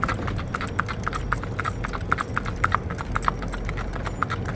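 A horse moves in a rack gait, its hooves making a quick, even four-beat clip-clop that repeats steadily at close range over a low background rumble.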